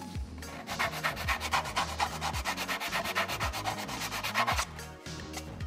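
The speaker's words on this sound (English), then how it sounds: "So I'm just sanding this down, just getting this flat." A part of a scout trooper helmet is sanded flat by hand, with rapid back-and-forth scraping strokes that are close and steady and stop near the end.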